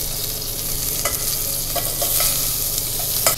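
Lamb pieces for an Irish stew sizzle loudly and steadily in a hot pan while being turned over. A low hum runs beneath the frying, and several short scrapes and taps come through. No one speaks.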